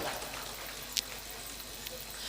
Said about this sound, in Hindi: जोरदार ताली बजाओ तब तो समझ में आएगा